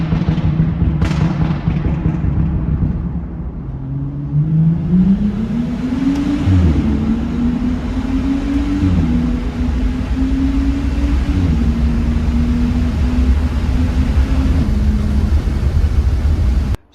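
A BMW F30 with the N55 engine and an exhaust delete, cruising at 1500 RPM in 8th gear. A loud, steady low drone with a slowly wavering tone runs continuously over road noise.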